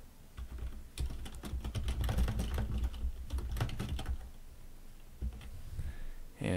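Rapid typing on a computer keyboard while entering text into an online store page, with dense clusters of close, crisp key clicks, short pauses between bursts, and a louder final keystroke.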